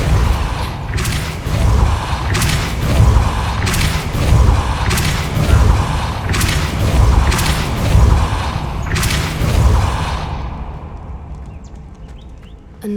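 A Depulso spell cast in the Hogwarts Legacy video game, with repeated loud whooshing bursts and heavy thuds about every second, then fading to quiet near the end.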